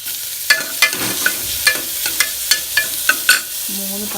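Sliced onions frying in a little coconut oil in a pan, a soft sizzle under regular sharp scraping taps of a spoon stirring, roughly a dozen strokes in steady rhythm.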